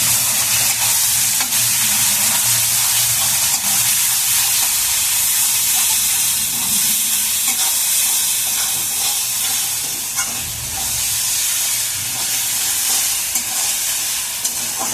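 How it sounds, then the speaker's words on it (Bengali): Spices with cumin paste and chilli sizzle loudly in a hot pan as they are sautéed, a continuous hissing fry with occasional stirring scrapes and no talk. "দিয়ে এবার সমস্ত মশলাগুলোকে আমি ভালো করে এবার কষিয়ে নেব।"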